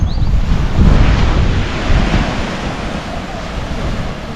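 Loud surf and gusty wind on the beach at Alvor in Portugal's Algarve, a constant rumbling roar of waves with heavy wind buffeting the microphone throughout.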